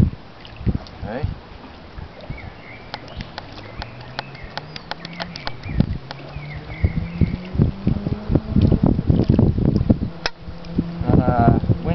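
Wind gusting across a small boat during handline fishing, low rumbling buffets mixed with knocks and water sloshing against the hull, with someone talking over it.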